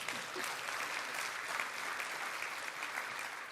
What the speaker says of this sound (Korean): 이럴 때 박수 한번 주셔야 되는 거 아니에요?